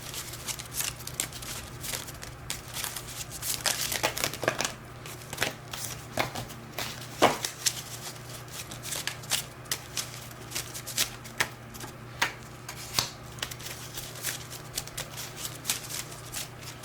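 A deck of cards being shuffled and handled, soft papery riffles and flicks ticking in irregular bursts, quiet and close.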